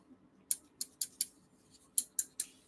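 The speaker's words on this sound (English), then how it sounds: "it's a pair of fucking scissors" A pair of scissors is handled close up, giving a series of crisp metallic snips and clicks in two quick clusters of three or four, with a quiet background between them.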